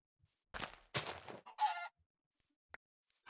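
Minecraft chickens give a few short clucks among quiet in-game sounds, soft and brief, with a couple of faint clicks after them.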